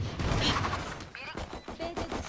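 Gunfire in the video game Valorant, a quick run of close shots in the first half followed by scattered game effects, with someone talking over it.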